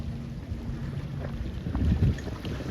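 Wind at a C420 sailing regatta, a steady rushing buffet across the microphone that swells into a stronger gust toward the end, with low boat and water rumble beneath.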